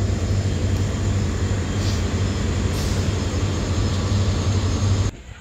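The Nilsagar Express pulls out of a station, a loud sustained low rumble and rolling noise that fills the whole stretch before cutting off abruptly near the end.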